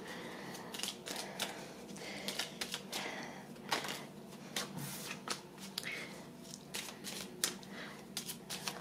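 A deck of 32 cards is shuffled close by, with quick, irregular riffling flutters and crisp card slaps repeating throughout at a fairly quiet level.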